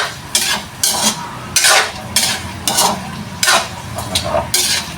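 Chicken adobo being stirred and fried in a pan, with a broadband sizzle under repeated bursts of a utensil scraping and clinking against the pan, about seven strokes in five seconds, close and fairly loud, no talking.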